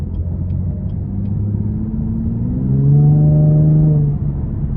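A 2024 Chevrolet Camaro 2LT RS V6 with dual-mode exhaust accelerates, and its deep engine rumble rises in pitch with a smooth rev climb. The sound is loud and heard from inside the car, with no talking.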